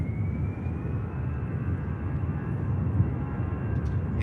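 EasyJet airliner taking off from Manchester Airport, a low, rumbling engine roar with a faint high whine gliding downward, steady and fairly distant, with no speech.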